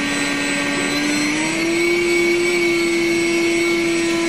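An electric motor spins a propeller on a thrust test stand with a steady, loud whine and whoosh that rises slightly in pitch midway as the throttle is nudged up.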